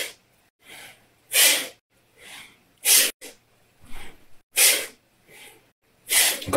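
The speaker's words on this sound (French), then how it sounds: "Inspire, expire" Deep breathing through the nose during a guided relaxation exercise, with steady alternating breaths in and out, each a soft airy rush with strong exhales, close to the microphone and rhythmic.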